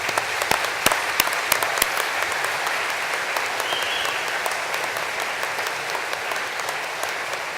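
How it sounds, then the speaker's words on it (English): A crowd at a university graduation ceremony for civil engineering, surveying and computing applauds, many hands clapping in a sustained, fairly even wash with a few sharp nearby claps standing out at the start. "with a warm round of applause, join me in thanking your family and friends who are here today"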